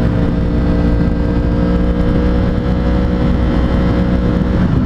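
A sport motorcycle rides through traffic, its engine holding a steady, loud drone under rushing wind noise throughout, with no change in pace.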